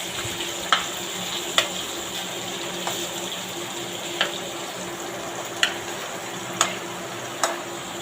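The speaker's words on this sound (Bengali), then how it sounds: "এখন কই মাছগুলো সুন্দর করে ভেজে নেব।" Koi fish frying in oil in a pan, a continuous close sizzle broken by sharp periodic ticks and pops of spattering oil every second or so.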